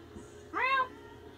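A person imitates a cat's meow in one short, rising-and-falling, nasal call that stands out clearly over a low indoor background.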